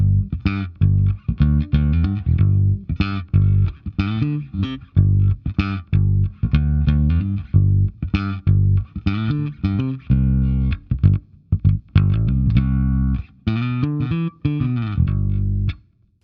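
Bass guitar played through a Gatekeeper GK-Drive overdrive pedal with the tone knob set brighter, giving a gritty, distorted tone. The riff is loud and close, built from punchy repeated notes and short phrases broken by brief pauses.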